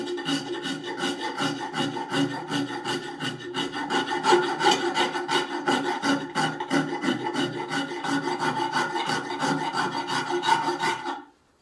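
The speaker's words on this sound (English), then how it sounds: "this is just a finer rounded rasp, and I'm literally just using this to take out the deep gouges" A finer rounded rasp files a wooden axe handle in a long run of rhythmic, light strokes, each a close, dry scraping rasp that repeats steadily for about eleven seconds before stopping.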